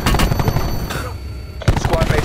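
Rapid automatic gunfire from a Call of Duty match, dense bursts of shots that briefly pause and then resume loudly, with some game noise underneath.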